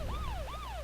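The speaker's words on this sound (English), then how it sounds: "That siren sound gets a little bit annoying though." A wailing siren from the video game Paper Mario: The Thousand Year Door sweeps up and down in a smooth, rising and falling tone, heard alone and steady.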